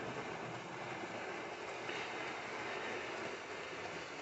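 An OO gauge model train runs along its track, giving a steady, continuous whirring rumble with a faint clatter that holds at an even level throughout, with no voices.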